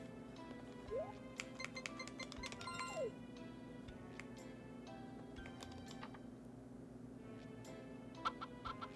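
Chickens cluck in a Harvest Moon 64 farm game, short chirpy clucks scattered over a steady background music drone, fairly quiet and alone without talk.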